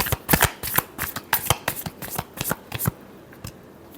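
Tarot cards are shuffled by hand in a rapid series of crisp, close riffling flutters. The flutters run for about three seconds, then stop, leaving near silence.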